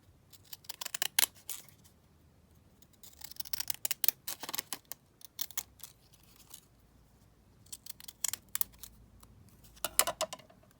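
Scissors snip through paper to trim faux postage stamps, a quiet run of short crisp cuts in uneven bursts with brief pauses between them.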